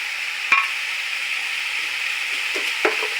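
Cumin, ginger and garlic paste frying steadily in a pan, a continuous soft sizzle with a couple of brief clatters of stirring near the start and end.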